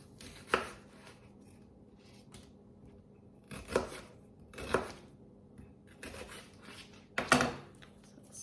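A knife cutting through food on a board during sheet pan freezer meal prep, four or five separate crisp slicing strokes spaced a second or two apart, close and quiet between cuts.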